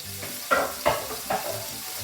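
Meatballs frying in a very hot pan, with a steady sizzle broken by a few sharp stirring or turning clatters, close and moderately loud with no talking.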